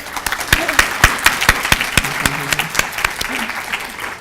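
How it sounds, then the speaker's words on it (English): Applause from a conference audience at a women lawyers' bar association event, honouring the conference chair; steady claps with a few sharper near hits, mid-loud and continuous. "please a very special round of applause to our annual conference chair for all of her work"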